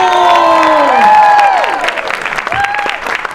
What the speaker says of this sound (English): So he does a massive round of applause